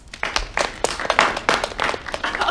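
Audience clapping at a children's storytime show, a scattered handful of sharp, separate claps that rise and fall unevenly over a couple of seconds.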